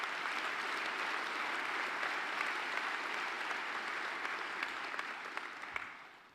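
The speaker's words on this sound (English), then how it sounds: "Let's give them another big round of applause." Dense, steady applause from a large audience at a university fall conference award ceremony, sustained and even for several seconds before tapering off near the end.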